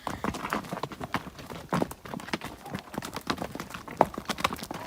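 Horse hooves clip-clop in a quick, steady rhythm on hard ground at a working guest farm, close by and fairly quiet, with no voices over them.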